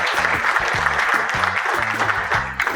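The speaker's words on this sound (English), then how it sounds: "let's give them a round of applause" Audience applause follows the introduction of a panel at a talk on digital marketing for races, a steady wash of many hands clapping with faint voices underneath.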